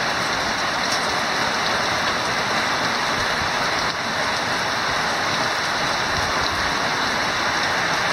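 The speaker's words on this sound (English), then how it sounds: "it's pouring" Heavy tropical rain pours steadily on Isla Popa, a dense, loud, unbroken hiss of water drumming on surfaces close by, continuous throughout with no voices.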